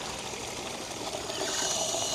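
Holy water runs from a tap into a bowl in a steady, even stream that holds at a constant level throughout.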